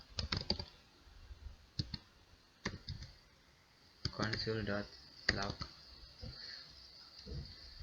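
A computer keyboard clicks as JavaScript code is typed, with sparse single key taps and short quick bursts, close and fairly soft, while someone talks in between.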